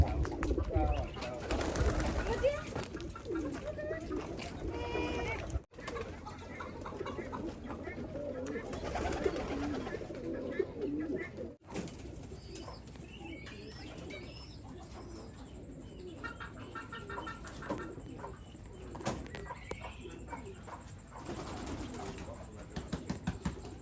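Pigeons coo repeatedly at a nest where they have laid eggs, soft low throaty calls rising and falling over a busy outdoor backdrop, with a person talking at times.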